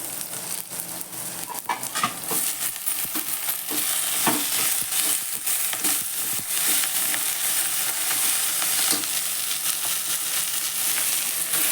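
Chopped onion browning in a pan for a Marathi vegetable dish gives a dense, continuous hiss of frying, with scattered soft clicks of stirring throughout, close and steady.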